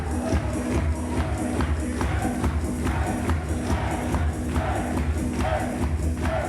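A large indoor wrestling crowd roars and cheers steadily, a dense wall of voices with scattered shouts rising throughout.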